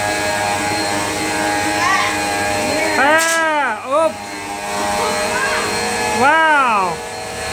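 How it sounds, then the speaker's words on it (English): A vacuum cleaner hums steadily on a floor at home while a voice rises and falls over it in loud vocal bursts and a person speaks briefly. "Look at big boy vacuum."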